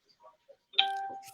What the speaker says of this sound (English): Did you hear the bell go off?